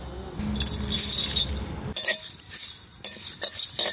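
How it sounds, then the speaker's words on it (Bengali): Bay leaf, cumin and coriander are dry roasted in a pan, heard as close rattling and scraping with clinks of a utensil, rising and falling in short bursts. "তেজপাতা, জিরে আর ধনে আমি শুকনো খোলা একটু ভেজে নেব।"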